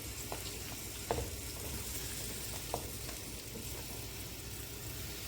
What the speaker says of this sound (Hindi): ये जी प्याज हो गए हैं ऐड।